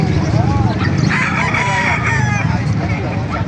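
A rooster crows in the distance amid steady outdoor noise and clucking, with some indistinct background chatter, at a chicken market in Calumpit, Bulacan, Philippines.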